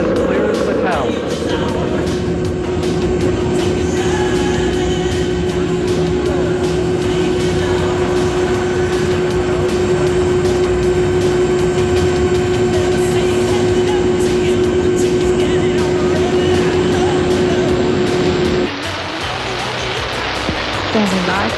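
Space Shuttle Atlantis on STS-30 clearing the launch tower, a loud, sustained rumbling roar with a steady tonal hum that cuts off near the end, under an announcer's voice.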